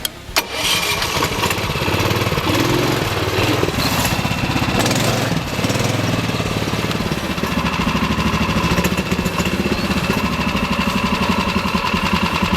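The engine of a Rokon off-road motorbike roars steadily and loudly at close range as the bike climbs up a wall, a continuous rough mechanical drone with a rising strain near the start.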